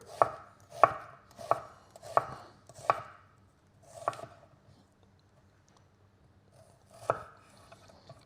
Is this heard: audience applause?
no